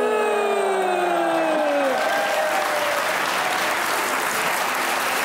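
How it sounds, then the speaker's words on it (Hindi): Studio audience on a Pakistani comedy talk show bursts into sustained applause after a guest says he had a love marriage, loud steady clapping filling the room as earlier voices fade out. "अरेंज में नो तालियां, लव में तालियां है?"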